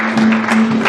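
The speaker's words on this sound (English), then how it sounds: "Don't stop clapping, even if your hand gets red. Just keep clapping." A church congregation at a Sunday celebration claps together, a dense, loud patter of hands with a steady hum underneath for about a second.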